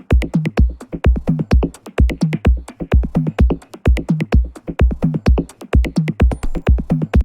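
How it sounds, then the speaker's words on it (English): A modular textural percussion groove for minimal deep tech house: a tight, steady loop of punchy low kicks and clicky, pitched percussive hits repeating at an even tempo, loud and dry. "this textural percussion groove that we've just made"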